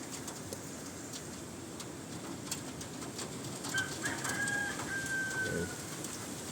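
Many pigeons in a loft, a dense background of soft cooing and fluttering with a faint whistling call partway through, steady and moderately distant.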